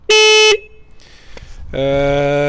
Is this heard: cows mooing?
no